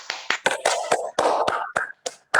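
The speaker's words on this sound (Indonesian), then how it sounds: "tepuk tangan untuk Eka." Quick burst of applause from a classroom of students praising a classmate's correct answer, a few sharp uneven claps close by with no talking.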